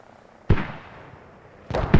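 Mortar rounds exploding in the video game Squad, one sharp booming blast followed by a rumbling tail, then two more blasts close together about a second later, loud and near, with no voices.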